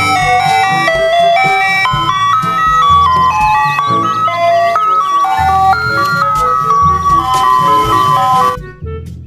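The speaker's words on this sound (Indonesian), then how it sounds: "Di sini ada mobil es krim." A toy ice cream truck plays a bright, electronic jingle melody continuously and loudly close by, stopping abruptly near the end.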